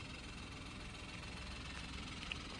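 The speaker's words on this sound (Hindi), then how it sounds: "This is 1 litre turbo petrol engine. आप इसको थोड़ा बहुत नॉइज़ आ रहा है इसमें, 1 लीटर होने के कारण थोड़ा बहुत नॉइज़ी है।" A 1-litre three-cylinder turbo petrol engine in a Kia Sonet runs at a steady idle, producing a continuous low, slightly rough drone with faint mechanical knocking that stays even and unbroken throughout.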